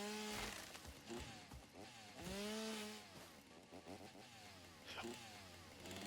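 A chainsaw from the video game Satisfactory runs loudly and steadily for several seconds, its engine revving up and down with sweeping pitch changes.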